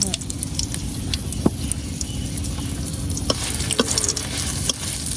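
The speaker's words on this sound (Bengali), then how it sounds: "এখন এই তেলের মধ্যে শুকনো মরিচ গুলো ভাজা নিলাম" Dried red chillies fry slowly in mustard oil over low heat, a steady close sizzle with occasional sharp crackles and pops as they are stirred.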